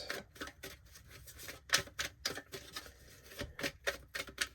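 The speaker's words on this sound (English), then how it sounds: "Alright, one more shuffle here." A tarot deck is shuffled close up, giving quick bursts of crisp card riffles and taps in an uneven rhythm, fairly quiet, with no talk.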